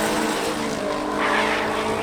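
A near-stock, low-powered BMW E46 330 six-cylinder drift car at a drift competition, its engine droning loud and steady with a rising tire-squeal skid swelling midway through the two seconds.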